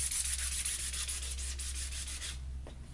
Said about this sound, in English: I do need to sand a couple spots where it had supports